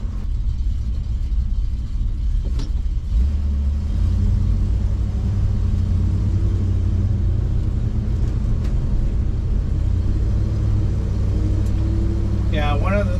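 A 1972 Ford F250 Ranger truck rolls along with a steady low engine rumble and road drone heard from inside the cab, with a brief higher whine near the end.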